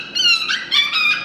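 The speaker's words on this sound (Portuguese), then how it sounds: "Mano, tem um cachorrinho aqui." An injured dog with a broken leg whimpers close by in a string of high, thin, squeaky whines that rise and fall in short bursts, with no talking.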